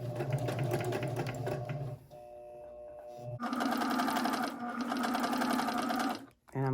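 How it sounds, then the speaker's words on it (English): A sewing machine runs a zigzag stitch over dental floss for gathering, its rapid mechanical whir steady and close, pausing briefly before resuming in a second burst; no voices cut in. "all I'm gonna do is pretty much zigzag stitch over the floss"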